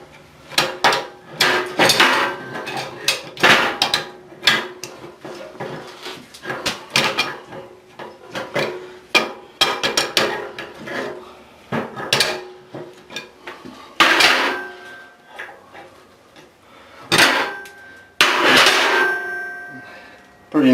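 Wrenches working on the mounting bolts of a church bell, with sporadic metallic clanks, taps and scrapes at close range amid brief quiet gaps.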